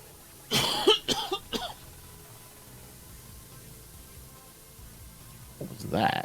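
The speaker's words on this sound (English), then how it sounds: "Cough." Three sharp coughs come in quick succession, loud and close, followed after a pause by another short cough or throat-clearing.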